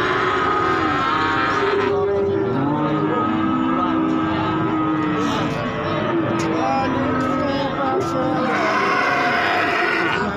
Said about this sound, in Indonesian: Nah, ini sudah ada sapi-sapi bakalan.